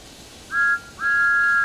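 Steam whistle of Thomas the Tank Engine in Train Sim World 5, two clear high blasts, a short one followed by a longer sustained toot, loud and close over faint rumble.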